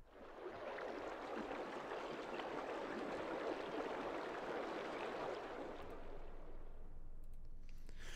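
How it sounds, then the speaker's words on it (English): A river recording from a cinematic sound kit, heavily warped and mangled into a dense, continuous rushing wash that holds steady and loud before thinning out near the end. "it's like the sound of a river, and then it's, you know, totally warped, mangled"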